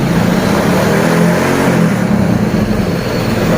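A motorcycle engine revs steadily and close by as the throttle is pulled open on a bike being fitted with a headlight wiring circuit, a dense continuous drone that holds loud throughout without any voices.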